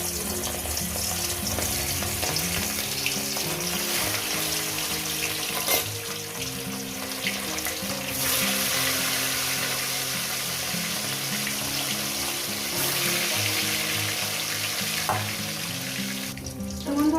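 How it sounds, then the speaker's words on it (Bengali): Catla fish sizzles steadily in hot oil in a pan. The frying hiss is dense and continuous, close and fairly loud, with faint clinks and no speech. "মাছের তেলটা গরম হয়ে গেছে আমি এখানে দিয়ে দিচ্ছি"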